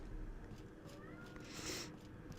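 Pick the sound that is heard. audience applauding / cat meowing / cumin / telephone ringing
cat meowing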